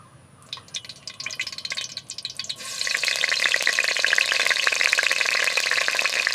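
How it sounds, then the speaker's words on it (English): Sausages fry in a pan for a sweet and sour stir-fry: a quiet start with a few crackles and drips, then a steady, loud broadband sizzle from about three seconds onward, close and with no voices. "Fry them briefly so the sausages puff up and become firm."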